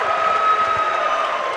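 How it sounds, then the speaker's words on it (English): Fight crowd at a mixed martial arts event, Empire Fight Series 1, roaring and cheering on their feet, a steady dense wash of voices sustained loud throughout with a constant tonal hum beneath. "Danny Hodge has the crowd on their feet"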